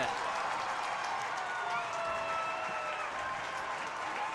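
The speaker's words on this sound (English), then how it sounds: "The crowd erupting here in the Frank" Arena crowd roaring after a goal at a college club ice hockey game between Indiana and Michigan, a sustained wash of cheering and applause with a few high whistles cutting through, no speech over it.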